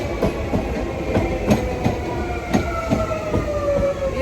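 A commuter train riding on rails, heard from aboard, with rhythmic clickety-clack thumps over a continuous rumble and a rising tonal whine toward the end, loud and steady with no talking.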